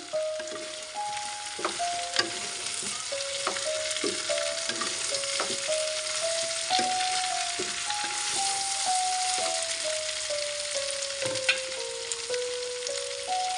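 Mustard paste, made from black mustard seed, being stirred into mango pickle in a frying pan, giving a steady sizzle with repeated scraping strokes of the spoon and a faint tonal whine running through throughout.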